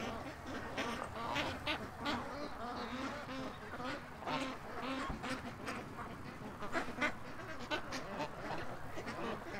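Ducks quack repeatedly and fairly close, a busy overlapping chorus of short calls with some bird chatter and faint voices beneath, while they are fed.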